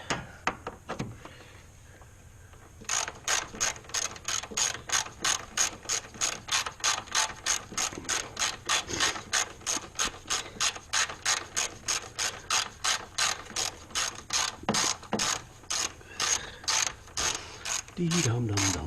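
Ratchet wrench cranking on a 2007 Hyundai Sonata during compressor and condenser replacement, a steady run of sharp, fast, evenly spaced clicks after a brief pause, close and clear with no talk.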